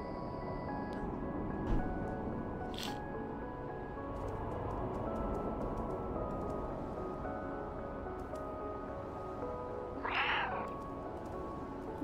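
A cat meows in the video game Stray, a short cry standing out near the end over a soft, steady ambient hum, with a few faint ticks and chirps scattered earlier.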